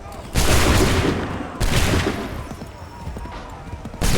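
Loud musket volleys crack out in the Assassin's Creed III video game, three separate massed blasts each trailing into rumbling echoes, with shouted commands around them.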